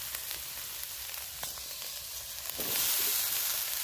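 Spices with red chili powder sizzle in a pan while being stirred, a dense continuous crackle that swells louder near the end, close up with no voices.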